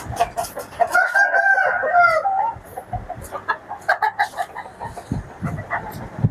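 Roosters crow in a grow-out coop for young fighting chickens, one long crow in front followed by scattered clucks and further calls nearby, with no talking.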